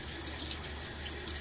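Water runs steadily from a tap as a soap tin is rinsed upside down beneath the stream, a soft constant splash heard close with no talk.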